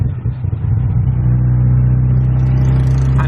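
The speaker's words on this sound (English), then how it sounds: "I'm riding on a tuk-tuk" A tuk-tuk engine in Chiang Mai drones steadily from up close while riding, the pitch rising as it accelerates into a sustained buzzing hum.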